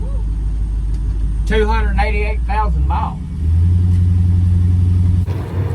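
An old metal-body truck with a junkyard 5.3 LS V8 and 288,000 miles rumbles in the background, then revs into a louder, sustained drone after someone briefly speaks.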